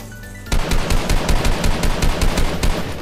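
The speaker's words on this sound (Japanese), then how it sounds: "ちょっと遠いけど撃っていきます。" Rapid string of hand cannon gunshots in Fortnite, firing at a distant enemy in a solo match, loud sharp reports in a fast steady rhythm starting abruptly after a brief quiet moment.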